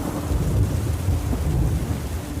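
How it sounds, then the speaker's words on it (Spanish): Steady, heavy rain pours down with low rumbling thunder rolling underneath, a dense continuous wash of sound with no voices. "La lluvia no paraba desde hace varios días."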